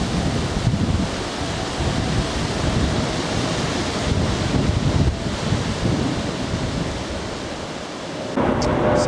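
Wind gusts steadily across open countryside on a walk near Eridge Green in the Weald, a loud, continuous broadband roar that rises and falls slightly and fills the whole stretch without pause.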